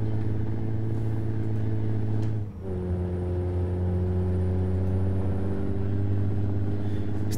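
A Kenworth T800 truck engine labors at about 2000 rpm on a heavy uphill climb, a loud, steady low drone with strong harmonics that dips briefly during a gear change, then resumes.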